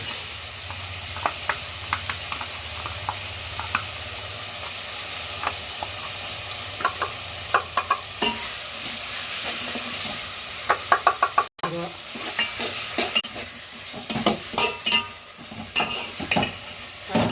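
Ginger garlic paste fries in a hot pan for a pulao, a loud, continuous close sizzle broken by frequent sharp knocks and scrapes of a spoon stirring against the pan.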